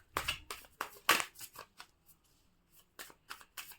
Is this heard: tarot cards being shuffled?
yes